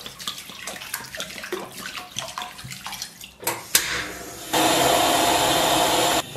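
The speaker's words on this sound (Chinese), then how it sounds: "然后咱们来点这个广东的米酒" Guangdong rice wine is poured into a pot holding pork belly, water and crushed ginger: splashy liquid trickles and clinks, then a loud steady gushing pour that runs for a couple of seconds, no voices.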